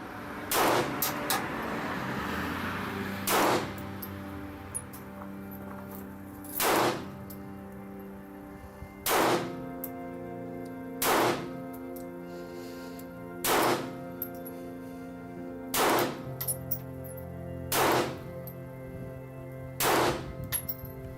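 .22 pistol shots ring out at a child's shooting lesson, about nine sharp single reports spaced a couple of seconds apart over steady background hum, fairly close.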